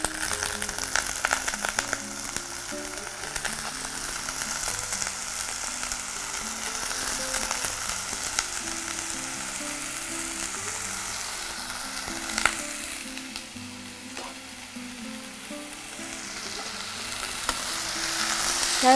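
Small Chinese potato tubers being sautéed in a pan sizzle with a steady, moderate frying hiss, while a spatula scrapes and taps now and then, one sharper clack near the end, and soft background music plays underneath.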